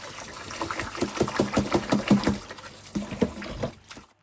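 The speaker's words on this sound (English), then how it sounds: "We're gonna wash our rice properly" Rice is washed in water for Jamaican gungo peas and rice. Rhythmic swishing and sloshing sounds come in quick, uneven strokes, close and moderately soft, then fade out at the end.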